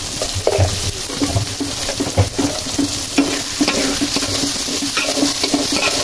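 Whole cumin seeds, about a tablespoon, tipped into beef frying for kosha mangsho, giving a loud, dense, continuous sizzle with scattered sputters and light clanks of a utensil against the pot throughout, no talking.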